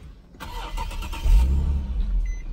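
A 2010 Infiniti G37 Coupe with 87,000 miles cranks and starts, a short starter whir followed by the engine catching into a loud, close rumble that settles toward idle.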